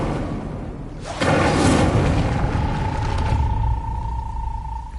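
Incendio fire spell cast in Hogwarts Legacy, a sudden whooshing burst of flame with a deep rumble that swells for a couple of seconds, then fades into a thin lingering tone.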